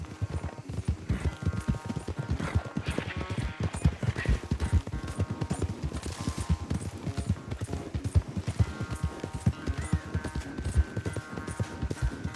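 Horses galloping during a race in the Red Dead Redemption 2 video game, a dense, continuous pounding of hooves at a fast, driving rhythm, close and steady for the whole stretch without talk.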